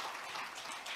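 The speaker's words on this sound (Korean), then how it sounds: "이 아침 시간에 이렇게 참여해 주신 것에 대해서 감사히 박수를 좀 보내주십시오" Audience applause for a professor at an international symposium session on US-China strategic competition, a dense, steady wash of many hands clapping throughout, fairly soft and distant with no talk over it.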